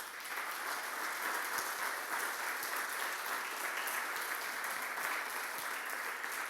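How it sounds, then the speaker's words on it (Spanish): A church congregation claps in praise, producing a dense, steady wash of applause that holds at an even level from start to finish. "Dele un aplauso de alabanza,"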